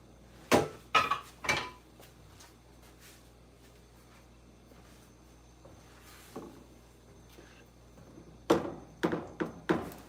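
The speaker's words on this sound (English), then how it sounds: "Go ahead and toss some onions in there" Onions are tossed into a metal pot for a shrimp boil, giving a quick run of sharp clanks and thuds near the start and another cluster of knocks near the end, with quiet stretches between.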